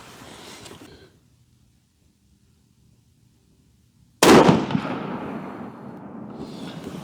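A Savage rifle fired from a Caldwell DFT2 lead sled while sighting in: after a stretch of near silence, one sharp, loud close shot cracks out and trails off in a long decaying echo.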